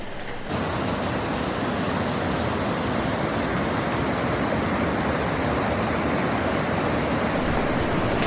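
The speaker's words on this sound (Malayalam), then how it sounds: "ഇവിടെ എവിടെ തിരിഞ്ഞാലും ഈ വെള്ളച്ചാട്ടങ്ങളുടെ കളകളാരവം തന്നെയാണ് കേട്ടോ" A continuous, loud roar of rushing water from a nearby waterfall at Mankulam, Kerala, begins after a brief moment and holds steady, with no talking.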